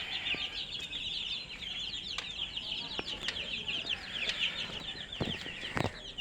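Many five-day-old broiler chicks peep continuously in a high, chirping chorus, with occasional soft flutters and thumps nearby.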